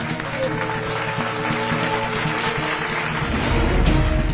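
An audience claps continuously as a dense wash of applause, under speech, swelling louder toward the end.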